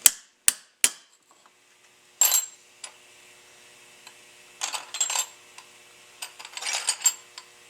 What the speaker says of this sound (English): and a lot of hammering